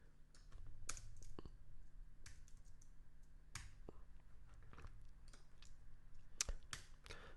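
Soft, close computer mouse clicks come singly and in short pairs while someone edits in DaVinci Resolve, faint against a quiet background.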